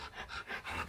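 A dog pants close by in three or four quick, soft, rhythmic breaths, fairly quiet, with no talking over it.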